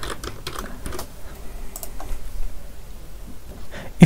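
Code is typed on a computer keyboard in bursts of fast, close key clicks separated by brief pauses, steady and moderately loud with no voice over it.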